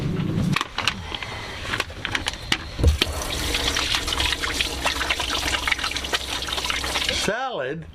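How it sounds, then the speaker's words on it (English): Tap water runs steadily into a sink during handwashing, a continuous splashing stream heard close by with people talking over it, then cutting off near the end. "you gotta wash your hands before you come in"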